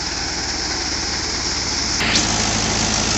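Mahindra 575 DI tractor running a Virdi wheat thresher at 1700 RPM, a steady loud mechanical drone with constant engine hum throughout, no speech.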